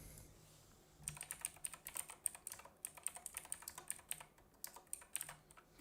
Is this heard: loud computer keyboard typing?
yes